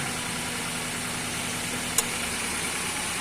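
A Toyota Avanza engine idles with a steady, even hum, broken once partway through by a single sharp click as the air-conditioning compressor's magnetic clutch engages.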